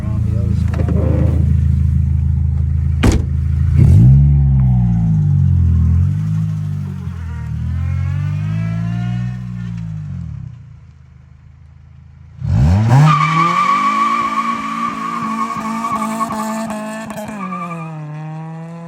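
A car accelerates hard from a stop sign with engine tones rising and falling through turns, then after a brief lull roars off again with a sustained squealing tire tone; voices talk over parts of it.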